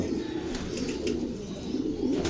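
A pigeon coos nearby in soft, low, rolling murmurs that repeat steadily, with no talking.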